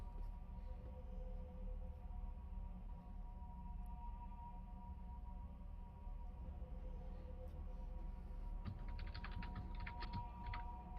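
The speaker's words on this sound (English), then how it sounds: "Hearing some frantic typing." Someone types quickly on a computer keyboard during an online tabletop role-playing session. A faint, rapid burst of clicking arrives near the end over a low background hum.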